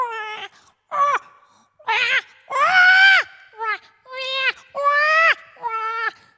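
A mimicry artist's voice imitates a crying cat: about eight wavering, meow-like wails in close succession, each rising and falling, loud and close with no other sound.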